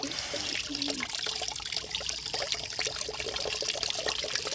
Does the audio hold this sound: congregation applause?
no